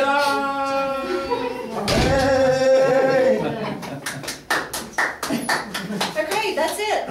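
A meeting audience claps hands together at close range, with loud voices and talk over it at first, then a scattered run of individual claps that trails off unevenly.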